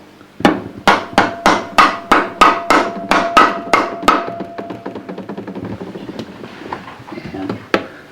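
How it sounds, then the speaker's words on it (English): Around a dozen sharp, evenly spaced blows from a rubber hammer tap a part into a rotary 13B engine during a rebuild, loud and close, then trailing off into scattered faint knocks and one last tap. "And then it's just gently tapped in with the rubber hammer."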